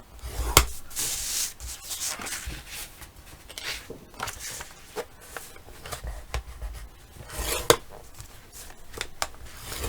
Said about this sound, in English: we're going to score 1/2 inch here and 1/2 inch here